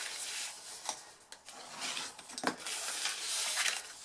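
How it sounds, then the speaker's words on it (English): Close, intermittent rubbing and scraping strokes as score lines are burnished on a papercraft card box for Christmas socks, with brief sharper scuffs between softer passes and no talking. "we fold and burnish all of our score lines"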